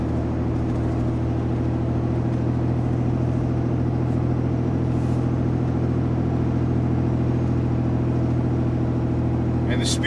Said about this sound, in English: this truck's shifting better already